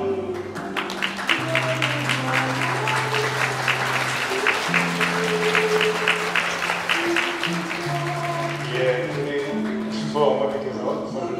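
Guests at a wedding ceremony in a hotel hall break into steady, sustained applause lasting several seconds, with sustained music tones running underneath throughout.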